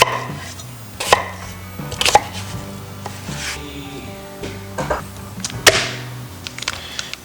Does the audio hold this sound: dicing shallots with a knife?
yes